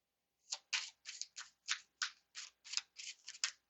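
A deck of tarot cards riffled and shuffled in about ten quick, crisp bursts at a steady rhythm, close up, with no voices.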